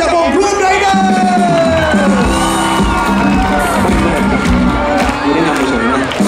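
A large concert crowd at Khao Yai, Thailand cheers and whoops loudly and continuously, with scattered shouts rising over a dense, steady roar.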